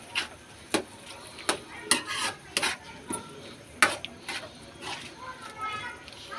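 Ground pork picadillo being stirred in a pan, irregular close spoon scrapes and clinks against the metal while someone talks.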